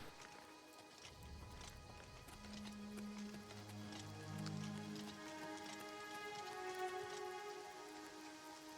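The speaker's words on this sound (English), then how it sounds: "And now it's raining." Steady rain falls in the fantasy video game Oblivion, a continuous soft hiss of drops that persists throughout, layered with sustained tonal musical score and some clip-clopping hoof-like steps partway through.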